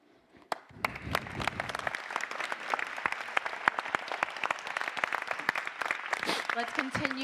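A crowd at the 2023 Lancaster State of the City event applauds the mayor. The clapping starts sparsely, then swells into sustained, dense applause, and a voice begins speaking near the end.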